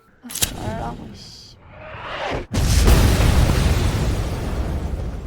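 In a scene from the series A Killer Paradox, after a brief whoosh and a faint tone, a gas bottle explodes in a sudden loud blast, followed by a sustained roaring rush that slowly fades.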